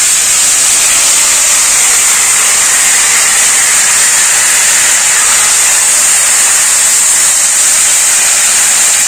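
Grated tomato fries in hot oil with whole cumin seeds and bay leaves, giving a loud, continuous hissing sizzle that holds steady throughout with no talking.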